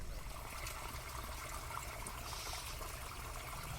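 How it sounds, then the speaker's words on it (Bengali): Water runs through a pipe into a field, a faint, steady rushing trickle that continues unbroken throughout. "এই যে দেখতে পাচ্ছি এই পাইপের মধ্যে দিয়ে জল যাচ্ছে"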